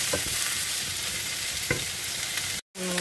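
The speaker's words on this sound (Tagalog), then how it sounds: "So ikikisa ko siya sa sibuyas na may olive oil" Taro (kolokasi) sautés with onions in olive oil, giving a steady, close sizzle with occasional stirring scrapes and a brief cut-out near the end.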